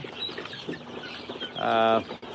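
Young Tiger and Egyptian farm chicks of mixed ages kept together, giving soft chirps and clucks up close, with a louder burst of harmonic peeping near the end over faint background noise.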